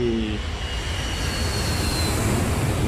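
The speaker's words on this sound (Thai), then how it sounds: "นั่นเครื่องบินเหรอ" An airplane passes overhead in the survival video game Last Day on Earth, a steady droning engine hum with a faint high whine, heard alone at moderate volume.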